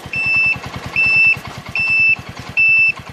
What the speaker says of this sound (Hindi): अभी मैंने जैसे गाड़ी स्टार्ट की है तो इसका आवाज़ आप सुन सकते हो।